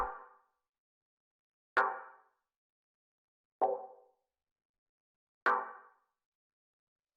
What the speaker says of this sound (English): we have the stab, which sounds like this